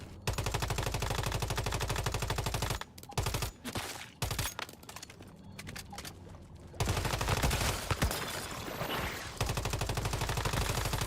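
Base turrets in the video game Once Human fire in long, rapid automatic bursts, loud and close, with brief choppy pauses between volleys before the sustained gunfire resumes.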